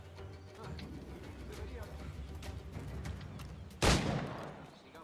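Pistol gunfire in Assassin's Creed IV Black Flag, a single loud sharp shot standing out from steady game ambience and background commotion, with a voice talking through the clip.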